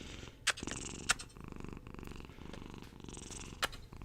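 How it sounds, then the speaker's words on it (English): A cat purrs close up in a continuous rumbling rhythm, with a few sharp clicks or bumps breaking through. "Little Stella side purr"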